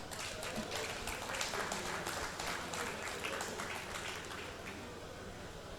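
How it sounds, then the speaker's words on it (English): Audience clapping at an event about Eko Boys High School, a steady dense patter of many hands at moderate level, continuing throughout with some voices mixed in. "Are you going to clap?"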